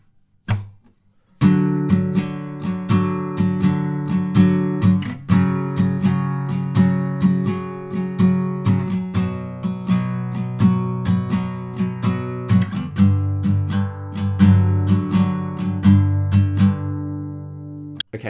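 Guitar plays through a studio-version chord progression, with steady, ringing strums and a chord change partway through. The playing is close, continuous and unaccompanied.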